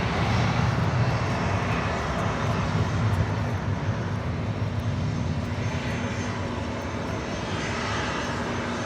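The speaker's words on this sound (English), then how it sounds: "This is Alaska Airlines 1442 taking off to Zihuatanejo on a 737-800." An Alaska Airlines Boeing 737-800 departing LAX makes a loud, continuous jet-engine roar that holds steady throughout, with no voices over it.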